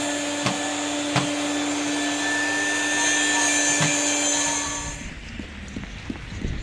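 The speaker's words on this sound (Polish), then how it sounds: "a odkurzacz no ma tyle lat co ja chyba, ale działa ciągle" An old communist-era Polish vacuum cleaner, decades old but still working, drones loudly and steadily with a whining tone, then switches off and winds down, leaving quieter room noise.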